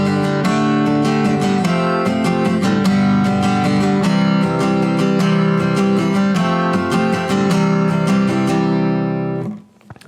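Acoustic guitar strums the chords of a song in a steady 3/4 waltz rhythm, each bright strum sharply attacked, playing alone before fading out at the end.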